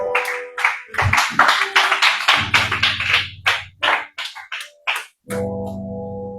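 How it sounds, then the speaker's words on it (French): Loud applause from a church congregation, a dense run of claps that swells and breaks into rhythmic bursts, with shouts and singing voices rising over it toward the end. "nous acclamons très fort"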